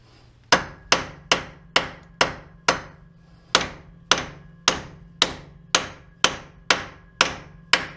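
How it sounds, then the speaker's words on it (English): Regular-size hammer striking a Dodge Caravan tie-rod from underneath during a tie-rod replacement, about fifteen sharp metallic blows in a steady rhythm with one short pause, close and loud. "Just grab a regular size hammer to hit from underneath."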